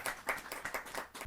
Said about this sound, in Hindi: एक बार जरा जोरदार ताली के साथ स्वागत करें।